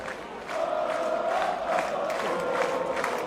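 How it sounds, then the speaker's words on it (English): A Miami college baseball crowd at a Florida vs Miami game swells into loud, sustained cheering and roaring that holds steady throughout. "this Miami crowd is starting to get loud"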